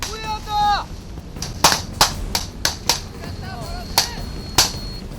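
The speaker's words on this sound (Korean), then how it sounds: "칠흑 같은 어둠을 찢는 총소리, 떨어지는 포탄에 간담이 서늘해진다." Gunshots crack through a night combat training exercise, several sharp, separate reports at irregular intervals, fairly near, after a brief human call at the start.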